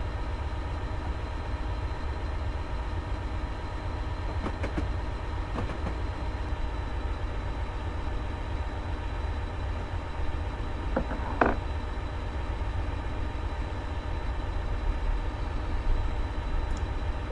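Train in Train Simulator on the Settle to Carlisle line runs at its limited speed, a steady low engine rumble and rolling hum that continues alone throughout, with a few faint clicks and a brief sharper burst near the middle.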